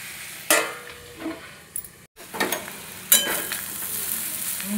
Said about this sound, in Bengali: নেড়ে চেড়ে আবারও ঢাকা দিয়ে দেব।